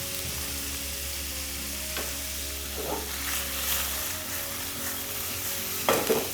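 Fish fries in a pan for a gluten-free fish pie, browning on both sides, giving a faint, steady sizzle with a few soft stirring or shifting sounds.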